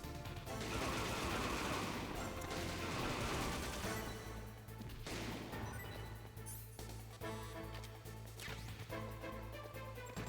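Dense bursts of gunfire and crashing impacts in the Metal Gear Solid Integral video game, loud and continuous over a layer of game music, with no voices.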